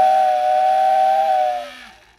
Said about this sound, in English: Just every kid's dream to have a working, functioning train whistle.